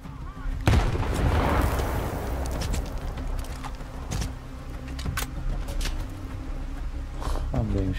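Gunfire in Stalker 2: Heart of Chornobyl, several sharp shots scattered across a continuous loud ambience of combat and engine rumble, with a voice talking now and then.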